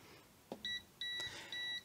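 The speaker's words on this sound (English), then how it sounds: "it's showing the orange light and the slow beep, which means you're near mains" An AC voltage detector held near a live mains socket gives slow, evenly spaced high-pitched beeps, three clear tones after a brief click, with no talk.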